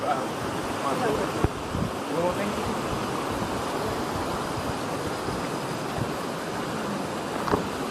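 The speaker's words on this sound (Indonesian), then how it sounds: "Kalian bisa denger ya, ada suara gemuruh air dari sana." Steady broadband rush of river water flowing from the Madakaripura waterfall in Probolinggo, a continuous dense roar heard close by with a few brief knocks and no speech.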